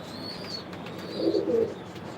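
Racing pigeons in a loft giving soft low coos that swell briefly midway, over a steady background murmur with faint higher chirps.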